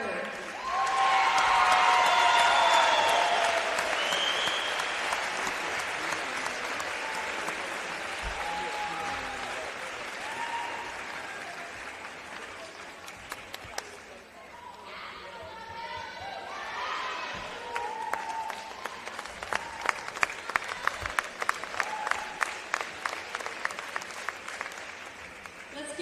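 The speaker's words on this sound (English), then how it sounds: "Let's give a big round of applause for our first team, OSAA 2A All-Tournament members." A large audience applauds steadily at an Oregon OSAA 2A high school volleyball state championship awards ceremony. The clapping is loud and sustained throughout, dipping briefly midway before swelling again with sharper individual claps near the end.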